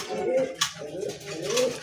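Lahori pigeons coo in soft, rolling low calls, two or three phrases close by in a pigeon loft, with some light background noise.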